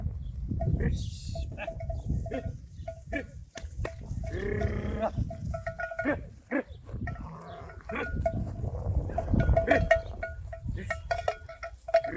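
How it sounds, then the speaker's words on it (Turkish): Sheep with their lambs, Ile de France rams and curly-fleeced Kıvırcık sheep, bleat close by at a farm pen, with several calls scattered over a steady low rumble while people talk nearby. "Bak şunları kuzulu koyun."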